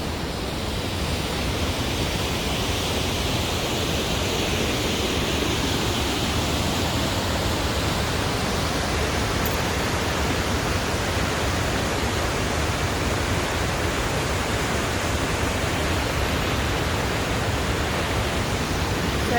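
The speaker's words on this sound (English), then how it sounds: "So that's Cane Creek Falls, and I showed you that view last time from the top of that bluff." Cane Creek Falls roars as a steady, loud broadband rush of falling water, continuous and dense throughout with no voices.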